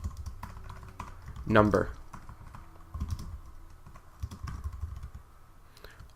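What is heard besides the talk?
typing HTML code on a computer keyboard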